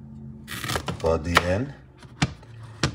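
A knife cuts the end off a very green plantain, giving a few sharp, close chopping taps against a board, mixed with brief talk and kitchen handling sounds.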